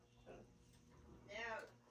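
Dogs bark and whimper in short, high-pitched yips, quiet and somewhat distant, mixed in with nearby talking.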